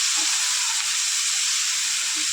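Chopped tomato hits a hot pan while making spiced pudla, giving a bright, steady close sizzle and hiss throughout with a couple of soft low bumps.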